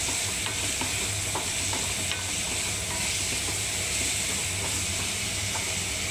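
Hand-crushed onion paste fries in a pan while being stirred, making a steady, loud, close sizzle with faint scraping clicks throughout and no voices.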